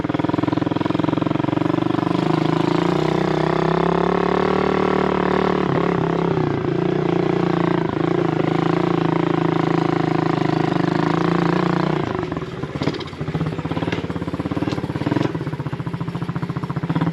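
A pit bike engine runs steadily up close, loud and continuous, with a carburetor still needing work; the tone wavers and roughens in the later seconds.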